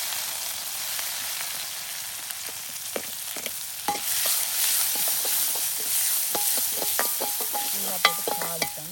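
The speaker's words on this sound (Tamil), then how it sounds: "இப்போ என்ன செய்யணும்னு சொன்னால் கடுகு சீரகம் போடுவோம். அதே போல் வந்து வெங்காயம்," Mustard seeds, cumin and onion sizzle in hot oil for crab rasam, a steady quiet fry broken by scattered crackles and pops and a few stirring scrapes near the end.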